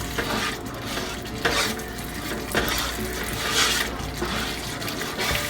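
Yogurt stirred into a spice masala in a pan gives wet scraping and gentle bubbling, with irregular louder stirring strokes over a soft continuous sizzle, close up and with no talking.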